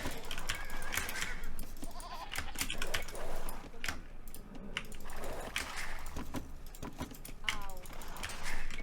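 Sheep bleat in a strategy video game amid rapid keyboard typing and mouse clicks, with a player talking over the game sounds.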